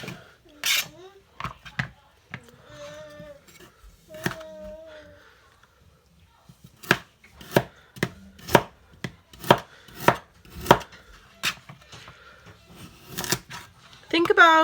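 Home-grown garden carrots being chopped on a board, a quick run of sharp knife strikes close up, with some sparse talk between cuts.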